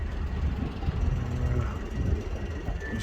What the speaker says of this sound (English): Diesel shunter, part of the Heritage